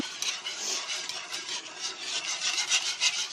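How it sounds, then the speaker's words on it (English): A whisk scrapes and swishes rapidly through gravy for a chicken pot pie, giving quick rhythmic strokes against the pan, close and fairly soft, with no talk. "So you just want to keep whisking away over here."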